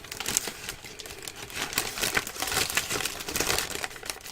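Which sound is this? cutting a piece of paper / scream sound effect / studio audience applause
cutting a piece of paper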